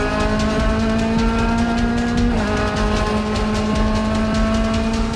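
A race car at the 14 Hours of Daytona lifting off and coasting toward a braking zone: a steady, loud harmonic engine drone from onboard, dipping slightly in pitch midway and carrying on evenly with no talk.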